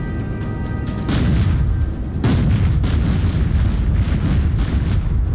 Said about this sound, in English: Mid-range guns, fire on the magazines of the Northampton.